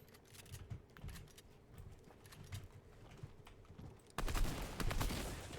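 Gunfire in the battle royale game Fortnite, a quiet burst of scattered shots at first, then a louder dense volley of rapid shots in the last second and a half, with no talking.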